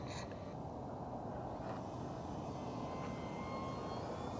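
Sparrow Scout RC FPV plane with a low center of gravity flies overhead, its propeller drone a faint steady hum against a broad outdoor wash of wind noise, no talking.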